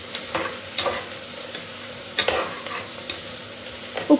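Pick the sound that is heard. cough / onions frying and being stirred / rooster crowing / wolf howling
onions frying and being stirred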